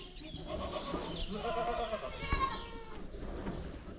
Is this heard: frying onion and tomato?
no